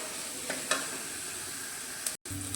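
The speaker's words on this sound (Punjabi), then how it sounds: "ਗੈਸ ਘੱਟ ਕਰਕੇ ਇਹਨੂੰ ਭੁੰਨ ਲਈਏ" Onions and tomatoes roast in a pan over lowered gas flame for a restaurant-style dal, giving a steady close sizzle with a few brief stirring scrapes and a short drop-out near the end.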